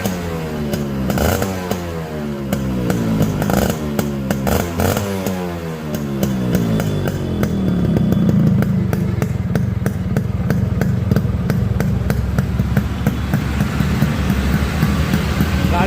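A Yamaha RX 100 motorcycle engine clatters and cranks, then catches and runs with a busy, steady rasp, revving at close range.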